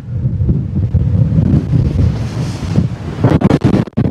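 Strong wind buffeting the microphone in loud, rumbling gusts on a golf course near Aix-Marseille, with bursts of gusting toward the end and no speech.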